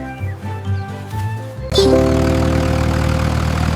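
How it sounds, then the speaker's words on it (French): A small tractor engine starts up after a brief musical lead-in, then roars steadily and loudly as a cartoonish sound effect in a children's song. "Le rugissement du petit tracteur était fort."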